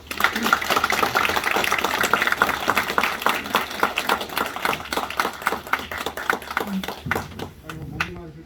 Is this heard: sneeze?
no